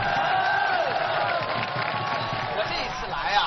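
An outdoor audience at an army stage performance by a drama troupe cheers and claps in a continuous crowd roar, heard under a narrator's voice.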